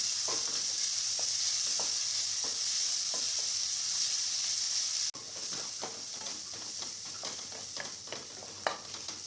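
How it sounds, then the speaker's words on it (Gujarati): Finely chopped medium onion sizzles in hot oil in a pan, a steady close hiss with scraping stirs at regular intervals, briefly interrupted partway through, no voices. "એક મીડિયમ સાઇઝની ડુંગળીને મેં ઝીણી કટ કરીને લીધી છે એ ઉમેરીશું। અને આપણે થોડી વાર શેકીશું"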